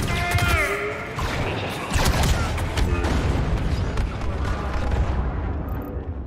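Explosions rumble through a Star Wars Battlefront 2 battle, heavy booms and crashes overlapping with blaster and gunfire bursts, loud and dense before fading out near the end, with brief game voices at the start.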